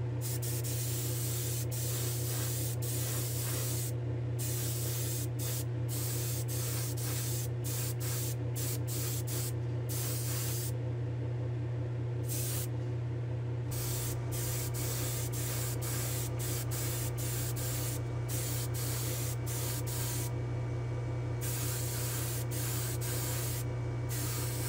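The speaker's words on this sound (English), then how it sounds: "I'll meet you in the spray booth for a clear coat" Spray gun laying clear coat onto an AMX Javelin car body in a spray booth, a steady close hiss running the whole time with short breaks and restarts between passes over a constant low hum.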